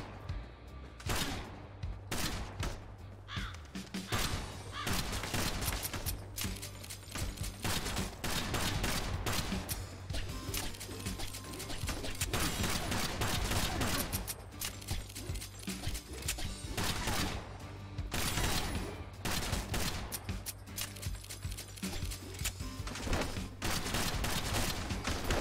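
Repeated gunshots in the video game Kill the Crows crack out in dense, fast volleys, loud and close, with only faint voice underneath.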